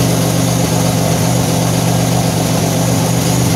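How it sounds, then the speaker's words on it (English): A car engine idles steadily with a low, even rumble and a faint rhythmic ticking puff like an exhaust leak, continuous and close, with no talking. "Definitely sounds like it has exhaust leak."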